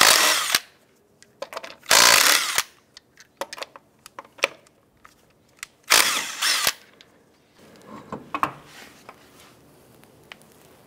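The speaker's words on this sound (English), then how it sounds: "Using your 19 millimeter socket, let's go ahead and remove the lug nuts" Power tool spinning a 19 mm socket to remove lug nuts from a 2002-2007 Jeep Liberty wheel: several loud whirring bursts of a few seconds each, separated by clicks and handling clatter, close up.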